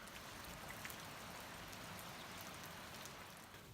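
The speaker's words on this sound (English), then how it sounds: "It's been absolutely pouring with rain all night here" Heavy rain pours steadily through the night on a mountain in Sichuan, a dense, even wash of drops and hiss that runs unbroken and close throughout, with no voices.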